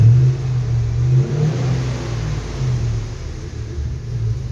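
Plymouth Cuda's Hemi engine fitted with a Sweptcharger, running with a steady low rumble and a slight rise in revs on the throttle, close and loud throughout without any talk.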